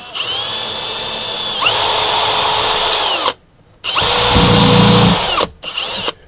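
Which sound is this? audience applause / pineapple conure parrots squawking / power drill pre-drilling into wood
power drill pre-drilling into wood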